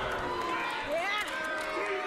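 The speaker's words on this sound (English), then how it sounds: "Listen to that crowd." A wrestling arena crowd roaring at an IMPACT Wrestling match between Rosemary and Taya Valkyrie, a steady dense wash of cheering with commentators talking over it.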